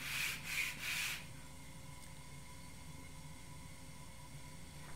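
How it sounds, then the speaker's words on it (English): Redwood violin ribs are rubbed on a sanding plate in about three quick, scratchy back-and-forth strokes, fairly close, followed by quiet room noise. "finish it off on a sanding plate to make sure the rib tops are all on one plane"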